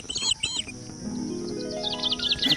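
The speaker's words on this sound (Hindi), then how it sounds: "बैकग्राउंड देखिए एकदम भरा पड़ा है नेचर से और चिड़िया का आवाज़ जो है आप लोग भी सुनते होंगे" Birds chirp in a village countryside setting, high bright twittering calls at the start and end over a steady insect-like drone, fairly close and clear with no talking.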